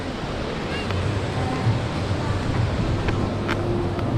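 Surf rolls in at Echo Beach in Canggu, Bali, a steady broad wash of breaking waves with wind buffeting the microphone and a voice talking over it.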